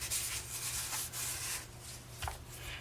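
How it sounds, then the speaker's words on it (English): Black cardstock panel, 3 1/4 by 4 1/2 inches, gets an embossing buddy rubbed over its whole surface, giving a soft, steady brushing hiss close by with a faint low hum underneath. "I'm going to run my embossing buddy over the entire thing."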